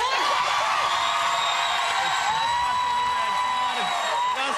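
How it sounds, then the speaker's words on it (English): Studio audience on a cooking talk show cheering, whooping and applauding to vote for a pork dish, a loud continuous roar with voices mixed into it. "Whichever dish gets the louder applause wins."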